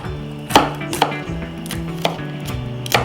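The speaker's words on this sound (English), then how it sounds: "Mince or chop the garlic." A kitchen knife chops garlic on a cutting board: four sharp, crisp knocks at an uneven pace, near and fairly loud, over a steady bed of soft background music.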